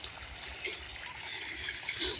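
Water trickles steadily along a small channel in a village paddy field, a continuous close, gentle splashing flow with no voices.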